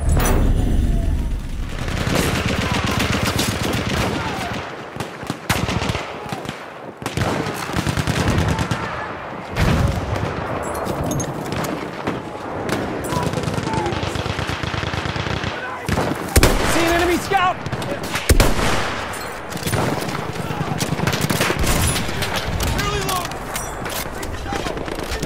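Machine gun fire in Battlefield 1, bursts of rapid loud shots and blasts that pound on and off through a chaotic battle, with shouted voices breaking through.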